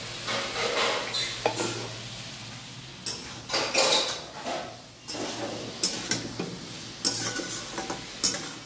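Potatoes fry in a pan with panch phoron, dried chilli and tomato, a steady close sizzle broken by repeated scraping stirs and clinks of a utensil against the pan, with no talking.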